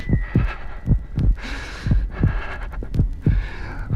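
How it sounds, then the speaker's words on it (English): Heartbeat sound effect, a steady series of deep, thumping double beats repeating in even rhythm, loud and close, with no voices. "the heart beat on, but at length it ceased"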